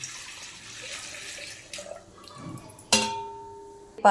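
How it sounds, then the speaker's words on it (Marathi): Liquid squeezed from bitter gourd is poured from a plate, a short, soft splashing pour near the start, followed by a sharp clank and quiet handling noises. "ताटातलं पाणी याच्यात ओतून दाखवते"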